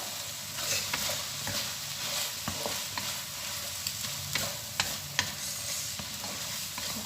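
Bitter gourd (ampalaya) is stir-fried in a pan, with a close, steady sizzle broken by sharp scraping and clanking strokes of the spatula.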